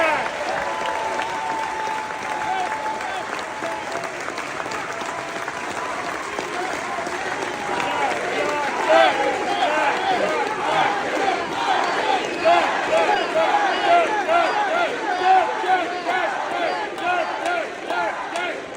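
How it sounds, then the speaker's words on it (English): An energized crowd at Rider University applauds and cheers, steady clapping and whoops filling the room at close range with rising swells of shouting. "certainly a very energized crowd"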